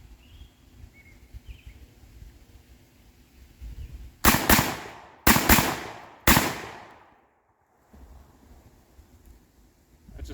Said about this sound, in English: Alrighty, first shots with the Turknelli.